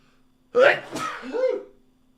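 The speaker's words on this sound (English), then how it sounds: "I've got a sneeze coming on." A single loud sneeze bursts out with a sharp intake and explosive release, close up in a quiet room.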